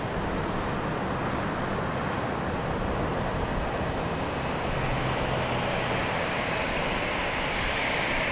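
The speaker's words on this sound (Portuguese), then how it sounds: "Vamos gravar este avião a levantar" Airplane taking off at Madeira Airport, a steady loud roar of jet engines that holds broad and even throughout, with no voices over it.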